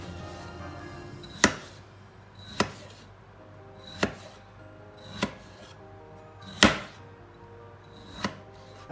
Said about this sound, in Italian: Dobbiamo tagliarla in dadini molto sottili